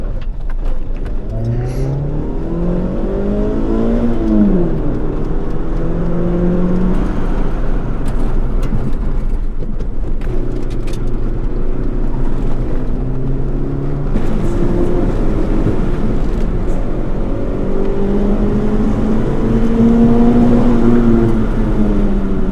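A Suzuki Swift Sport ZC31S on a hill climb run at Mt Cooperabung, heard from inside the car: loud, sustained engine note rising and falling through repeated revs and gear changes, with steady road and wind roar and no talking.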